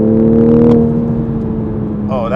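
A 2020 Toyota Supra engine revs below full throttle, a strong, steady harmonic drone that holds and then rises sharply in pitch near the end.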